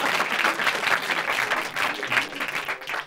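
Studio audience on a French comedy panel show applauds, a lively burst of many hands clapping in uneven waves, close and full for about three seconds.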